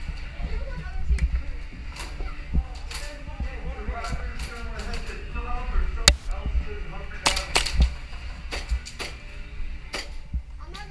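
Airsoft guns firing during an outdoor airsoft battle, with sharp snapping shots in irregular bursts, some close and loud, mixed with players talking and shouting.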